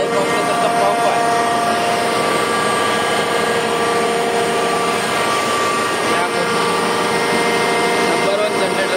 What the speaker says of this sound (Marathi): हा एअर कॉम्प्रेसरचा पंप आहे।